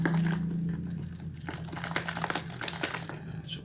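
A container of cleaning solution shaken hard to work up foam, a continuous sloshing and crinkly rustle that is loud and close, with no talking.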